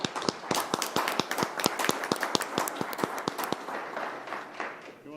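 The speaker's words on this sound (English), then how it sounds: "please, I want to give a round of applause to everybody that's participated." Scattered applause from a small audience at a town commission meeting: distinct, fairly crisp claps in an uneven rhythm that thin out and fade over a few seconds.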